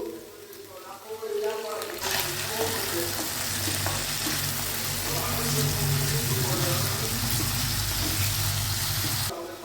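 Chicken mince frying in a pan with onion and potato, a sizzle that jumps in loudly as the mince drops in and then holds a dense steady crackle with stirring, close, after a brief stretch of quieter kitchen sound.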